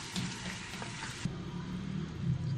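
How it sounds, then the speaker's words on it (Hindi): Beef sizzling and frying steadily in a pot with whole spices, a dense continuous hiss with low bubbling, close and fairly loud, with no talking. "पाँच से 8 मिनट तक हमने इसको अच्छे से भून लेना है"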